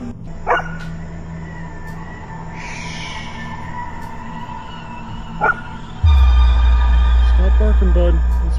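An excited dog barks outdoors at night in a few separate bursts, with someone talking near the microphone and a loud low rumble taking over in the second half.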